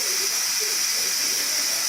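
Steam hisses steadily out of a pressure cooker releasing its pressure after cooking rigatoni, a constant loud, close hiss with faint rattling beneath and no talking.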